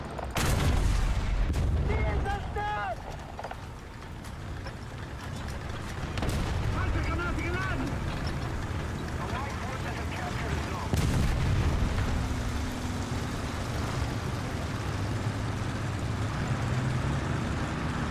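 A Panzer IV H tank cannon fires in War Thunder, giving heavy booming reports over a constant rumbling engine drone, with a German crew voice and a player talking over the battle.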